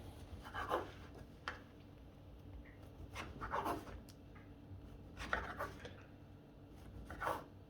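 A knife saws the crusts off slices of pain de mie sandwich bread in a kitchen, making several soft, short scraping strokes spaced a second or two apart, quiet and close with no talking.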